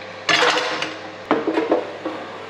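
Ninja Foodi air fryer basket full of fries being pushed shut, giving a loud metallic-plastic clatter followed by a second bang and a few lighter rattling knocks as it seats into place.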